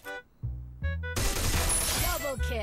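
Gunfire bursts in the Free Fire video game during a headshot, with a sharp crack after a brief pause followed by a dense stretch of shots and clatter.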